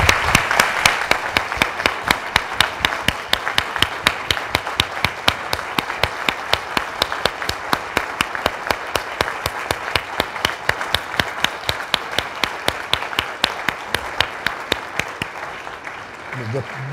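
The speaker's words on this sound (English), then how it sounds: "please join me in a round of applause for this gallant, great lady who's sitting here, Molly Allen" A round of applause from an audience honoring a woman seated at a media event, a long steady run of dense clapping with some sharp, distinct claps near the front, lasting about seventeen seconds before fading.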